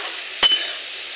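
A pot lid clinks once as it covers a cooking pot, a short bright metallic tap followed by a brief ringing tail against faint room hiss.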